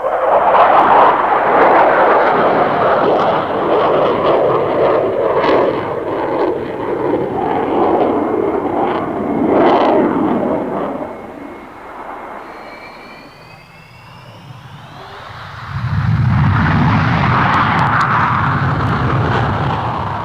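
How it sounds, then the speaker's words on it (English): Soviet military jet fighters, including a MiG-29 and a heavier Sukhoi Su-27, fly a display at the 1990 Farnborough air show, producing a loud, sustained engine roar that eases briefly, then surges back powerfully. "here's another, the bigger and considerably heavier Sukhoi Su-27 on its first visit to Farnborough"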